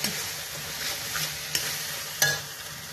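Mustard paste fries with eggs in a pan for an egg, mustard and poppy seed dish, giving a soft, steady sizzle with a couple of sharp utensil scrapes and no voices.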